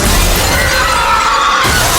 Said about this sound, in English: With a sudden crack, the entire platform gave way, and the crowd plunged straight toward the ground.